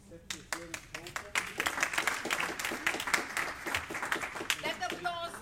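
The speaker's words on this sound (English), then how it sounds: "That applause is basically for the three." An audience at the EFEX 2019 conference applauds, a dense ongoing patter of many hands clapping close by, with voices talking over it throughout.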